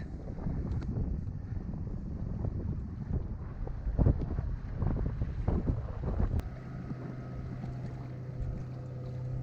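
Steady wind rushes and buffets across the microphone as a sailboat moves under full sail through water on a lagoon, with a low hum rising near the end.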